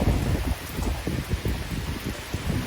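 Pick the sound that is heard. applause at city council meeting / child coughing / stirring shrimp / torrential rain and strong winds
torrential rain and strong winds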